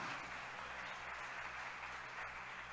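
A church congregation applauding during a sermon, a faint, distant, even wash of clapping that stays steady throughout with no voices over it.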